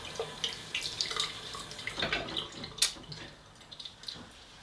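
A tap runs into a sink while someone wets their face, a soft close splashing and trickling with small irregular bursts, fairly quiet and with no talk.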